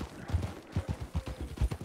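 Horse hooves in the video game RedM clip-clop in a steady, fairly loud trotting rhythm of heavy thuds with no voice over them.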